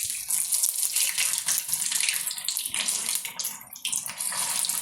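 Vada made from dosa batter fries in hot oil on a stove, a steady dense sizzle and crackle that continues loudly and evenly throughout, with no talk.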